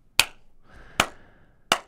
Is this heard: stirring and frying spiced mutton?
no